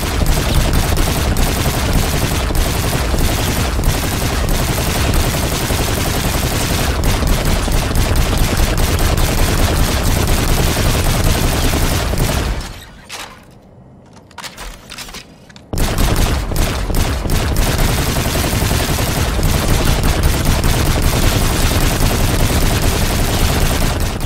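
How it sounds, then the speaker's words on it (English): Titan light machine gun firing in Call of Duty: Infinite Warfare: loud, dense sustained automatic bursts that cut out for a few seconds midway, then resume just as heavy until the end. "That was the Titan. He gets an LMG, or what they class as an LMG."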